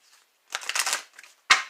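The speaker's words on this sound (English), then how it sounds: "let me get my cards so I can shuffle here" Tarot cards are shuffled by hand in two short bursts of crisp riffling, a half-second ruffle followed by a single sharp snap of the deck, close and clear in quiet surroundings.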